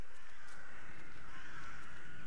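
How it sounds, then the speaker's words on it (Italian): Crows caw over a steady ambient bed in the video game The Last Door, the calls soft and distant, blending into a continuous midrange wash for a couple of seconds with no voices. "Ci sono gli uccelli anche però."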